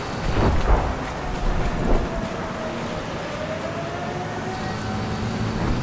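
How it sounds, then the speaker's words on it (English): A thunderstorm rolls across the Gulf of Oman map in the Battlefield 4 video game, with a heavy rumble, steady rain-like hiss and a fainter thunder swell near the start, then a continuous stormy wash. "The Levolution on this map is actually the storm is taking place now"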